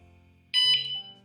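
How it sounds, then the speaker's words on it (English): One short, shrill electronic beep from a Vanolarm Lite alarm unit, loud and close, starting abruptly after near silence and lasting about half a second. "you get that one beep and the flash of the light"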